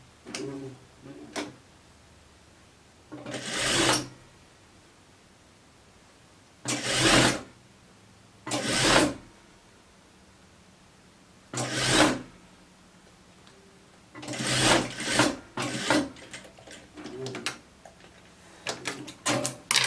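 A sewing machine stitches around a sweatshirt cuff in several short, rapid whirring runs, each a couple of seconds long, separated by quiet pauses with faint handling noise.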